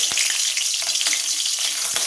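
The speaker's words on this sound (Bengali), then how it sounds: "এরপরে দেখো এই যে মাছের মাথাটাকে আমি একদম পুরো ধীরে ধীরে করে ভেজে নেব" A fish head fries in hot oil in a wok, a loud, continuous sizzle with crackling spits and a few sharper pops scattered through it.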